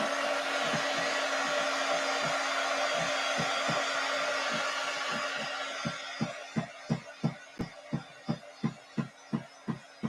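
A hair dryer blows steadily on clay, a loud continuous whir that then shifts into a regular pulsing rhythm toward the end, near and with no talk.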